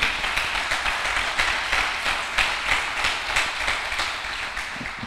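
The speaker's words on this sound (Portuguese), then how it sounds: "Você pode dar um aplauso ao Senhor aí?" A church congregation claps together in sustained applause, a dense, steady patter of many hands that fills the room and slowly tapers toward the end.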